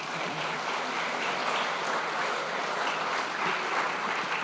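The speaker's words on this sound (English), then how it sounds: "So let's give her a round of applause." A room full of people gives a sustained round of applause at a community college Space Day event, steady close clapping holding an even level throughout with no speech.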